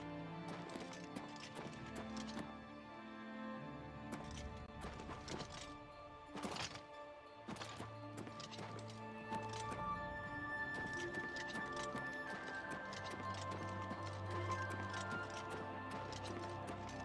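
Steady clip-clop of a horse's hooves in The Elder Scrolls IV: Oblivion Remaster, a quick rhythmic patter running throughout beneath a layered game soundtrack and ambience.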